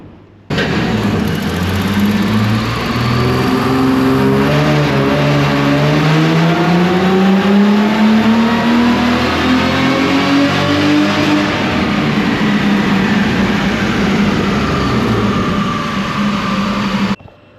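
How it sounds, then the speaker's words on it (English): A Toyota Corona drift wagon with an L67 engine doing a full pull on a dyno: one loud, sustained engine roar that climbs steadily in pitch for about ten seconds, then levels and eases off before cutting out abruptly. "I'll see if I can get through a full pull, just see how it goes."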